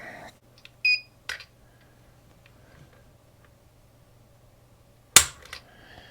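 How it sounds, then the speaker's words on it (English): A Springfield Echelon pistol's trigger is dry-fired on a pull-weight gauge: a few faint clicks early on, then one sharp, close snap near the end, in an otherwise quiet room. "But let's do a trigger pull test on this real quick."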